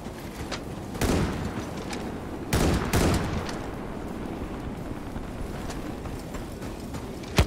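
Gunfire in a shooter game with sniping: sharp reports burst out around a second in and again about two seconds later, over a busy rumbling background of further scattered shots and action noise, with no voice.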